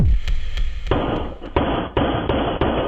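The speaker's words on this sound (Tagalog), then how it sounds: "sunod-sunod na 6 na putok ng baril ang pinakawalan ng lalaking nakapulang shirt." A man in a red shirt fires six gunshots in quick succession at a neighbour, heard as sharp bursts at steady intervals over loud continuous noise, fairly close and harsh.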